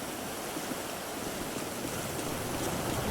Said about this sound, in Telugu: నాకు తెలిసి ఇంకా వర్షం పడుతుందేమో